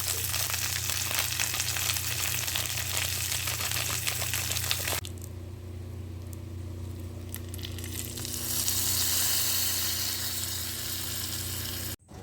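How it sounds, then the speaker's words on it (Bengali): Dried chilli, mustard seeds and curry leaves hit hot oil, giving a loud, dense crackling sizzle that changes to a gentler, steady frying hiss partway through, then cuts off abruptly. "তেলের মধ্যে দিয়ে দেবো একটা শুকনো লঙ্কা, সর্ষে, কারি পাতা আর একটুখানি লঙ্কার গুঁড়ো।"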